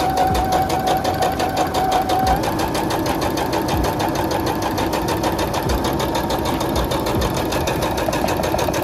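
A sewing machine stitches fabric for a teddy bear ski mask, a loud, close, continuous rapid mechanical whirring and knocking that runs steadily throughout.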